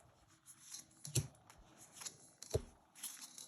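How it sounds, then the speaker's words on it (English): Runic Odyssey Oracle rune cards being shuffled and pulled from the deck, soft close riffling and slapping with a few sharper taps, quiet and unhurried with no voice over them. "So, I'll pull these cards here."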